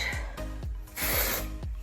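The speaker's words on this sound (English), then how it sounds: "I'm spraying the dry shampoo on it, and then I'm brushing it out" A short hiss of aerosol spray amid quick, rhythmic brush strokes dragging through hair, close and fairly loud.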